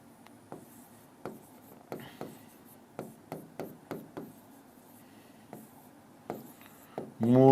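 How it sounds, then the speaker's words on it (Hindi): Chalk strikes a classroom board in a run of quick, sharp taps and short strokes, spaced unevenly and heard up close during a maths lesson. "ये लो पूरा लिखता हूं, ब्याज गुणा 100"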